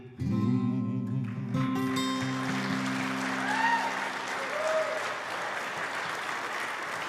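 A live bluegrass song's final notes ring out and then give way to enthusiastic audience applause, a broad, sustained wash of clapping with a few whoops and cheers rising from the crowd.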